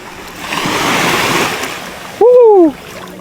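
Surf washing up on a sunny Grenada beach in the Caribbean, a steady broad wash of waves, then a short burst of a voice exclaiming over it near the end.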